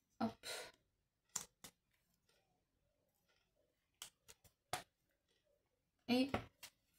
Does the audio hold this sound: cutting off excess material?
yes